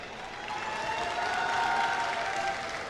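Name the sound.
round of applause for both robotics teams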